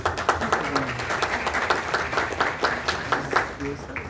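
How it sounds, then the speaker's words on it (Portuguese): Brief burst of audience applause at a round-table panel event, dense steady clapping with a few voices mixed in throughout. "Podem bater palmas."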